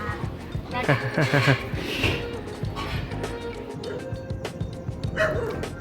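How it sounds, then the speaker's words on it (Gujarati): Dogs barking and yipping in an outdoor home setting in Gujarat, with a burst of barks early on and scattered yelps after, while people talk throughout. "કૂતરા અવાજ આવવા નહીં દે"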